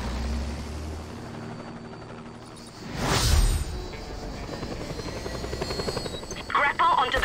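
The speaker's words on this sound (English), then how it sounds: "You will be using our helicopter, which will be piloted by our pilot." Helicopter in the open-world action game Just Cause 2, a steady rotor drone under game music and effects with a louder whooshing swell midway; a voice talks over it.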